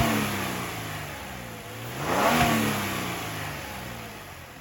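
2025 Genesis G70 Sport engine with no sound customization, giving one rising and falling rev over a steady idle, moderately loud and close with no talk.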